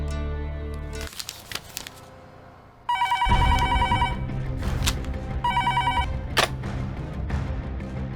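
A telephone rings in repeated bursts of bright electronic trilling, separated by pauses, over a low background rumble and a few sharp clicks.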